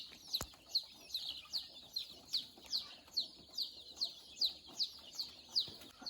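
A rooster and chickens in Muang Ngoi, Laos, give a steady series of short, sharp clucks about twice a second, moderately near, with one thump early on and no talking.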